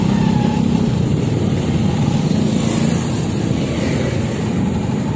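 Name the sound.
traffic on EDSA road, engines and motorcycles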